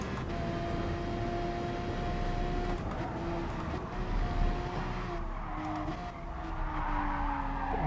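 Race car tires slide and squeal in GT Sport on the Nurburgring or Suzuka, with a steady engine drone and a wavering screech running over about eight seconds at moderate level.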